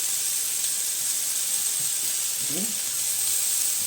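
Steady hiss and sizzle of tomatoes frying in a pan with a little oil throughout, with a faint voice briefly underneath.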